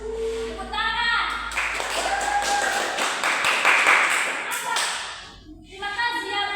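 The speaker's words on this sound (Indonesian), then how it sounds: "Tepuk tangan." A class of fifth-grade children claps together in a classroom, a burst of loud, dense clapping lasting several seconds with a voice talking before and after.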